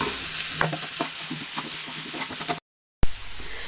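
Sliced onions with a piece of ginger, crushed garlic and a pinch of salt sizzle in a pan, with close, steady frying and stirring scrapes that cut out completely for a brief moment before resuming.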